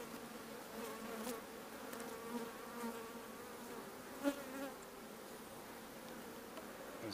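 Honeybees buzzing close by as a colony is moved from frames onto top bars in a hive, a dense, wavering hum with individual bees droning past and one brief louder knock, no speech.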